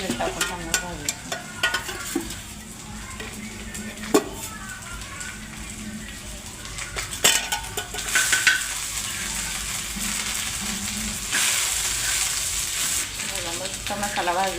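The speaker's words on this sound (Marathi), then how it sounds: "तेल टाकायचं, थोडं तेल टाकून चांगलं भाजायचं" Coriander, ginger and garlic roasting in a little oil in a pan, a continuous sizzle with occasional stirring clatters that grows louder and hissier toward the end.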